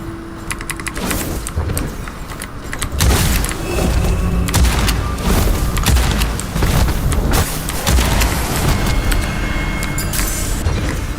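Loud, dense explosions from exploding pellets in the video game Witchfire, with bursts and booming thuds running almost without a break, close-up and without speech.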